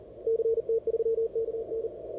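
Morse code from amateur radio station CT3KN during the CQ World Wide CW DX contest, a steady keyed tone sending rapid dits and dahs over faint background hiss and noise.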